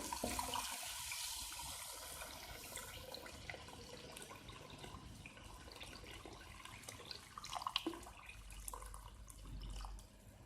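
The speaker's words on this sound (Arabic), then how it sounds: "نمرقوا ب2 لترات ولا لتر ونص تاع ماء، الماء يكون حامي" Hot water poured into a pot of fried chicken while cooking chicken stew, a steady watery splashing and gurgling that runs close and fairly loud for several seconds, with a brief low rumble near the end.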